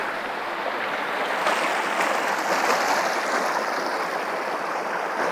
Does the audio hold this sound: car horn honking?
no